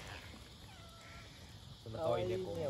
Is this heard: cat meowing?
yes